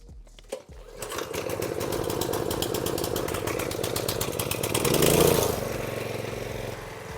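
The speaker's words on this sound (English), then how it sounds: "We are up and running with the pressure washer" A Husqvarna gas pressure washer engine catches after a short pull and runs with a steady buzzing drone that swells slightly before settling, close and loud, no voices.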